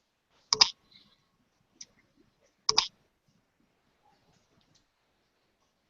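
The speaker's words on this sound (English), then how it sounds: "Someone is doing some clicking and it's making like a weird noise" Clicking from someone jiggling around in a leather chair: two sharp creaks about two seconds apart, a couple of fainter ticks between, otherwise near silence in a quiet indoor room.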